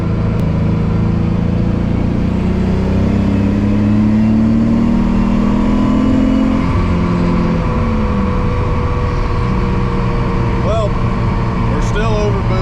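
A twin-turbo Nissan 300ZX engine pulls hard at full throttle from inside the car, a loud, steady droning roar with rising and falling tones that continues throughout, while a person talks over it.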